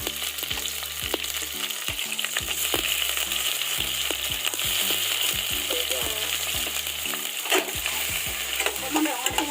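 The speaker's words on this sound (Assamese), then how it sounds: "জলকীয়া দিছোঁ" Dry red chillies, split and added with bay leaves, fry in hot oil in a home kitchen pan, sizzling steadily with repeated scraping stir strokes of a spoon against the pan, close and fairly loud throughout.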